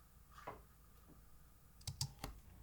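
Computer keyboard keys pressed while editing in DaVinci Resolve: a soft early tap, then a quick cluster of three sharp clicks near the end, close and quiet in a still room.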